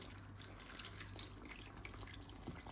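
Tap water runs steadily into a pot of wrapped grape-leaf tolma topped with butter and lemon and weighed down with a plate; a continuous, fairly quiet rushing flow with no talking.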